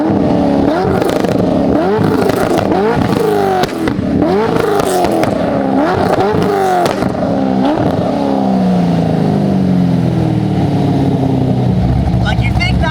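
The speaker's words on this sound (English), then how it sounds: "So the car is louder than stock, but it still has that muffled tone, as you can hear. Let me give you some revs." A Chevrolet Corvette with an aftermarket axle-back exhaust revs repeatedly, each blip rising and falling in a muffled but louder-than-stock roar, close and loud, before settling back to a rumbling idle.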